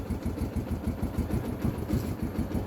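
A stock Yamaha Sniper 135 motorcycle, fourteen years old, idles close by with a fast, even, throbbing pulse of low putters, steady throughout and heard without talk.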